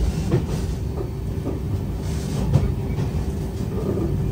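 Steady rumble of a Vande Bharat Tejas Express running on rails as it nears Ludhiana station on the New Delhi to Katra route, a continuous low roar with faint rhythmic clatter throughout, no voices.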